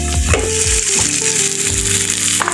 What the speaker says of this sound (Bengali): পেঁয়াজ আর রসুন কুচিটা বাদামি কালার হয়ে আসার পর এতে আমরা অ্যাড করে দিব ডাল